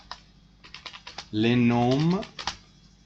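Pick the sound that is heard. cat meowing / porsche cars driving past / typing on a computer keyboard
typing on a computer keyboard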